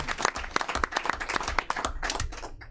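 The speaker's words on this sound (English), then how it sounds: "So let's give him a round of applause." A small group at a county board meeting gives a round of applause, sharp irregular handclaps close by, moderately loud and lasting a few seconds without speech.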